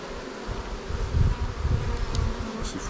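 Honeybees buzz around beehives during a hive inspection and super harvest, a steady close swarm drone that swells and fades over a few seconds, with no talking.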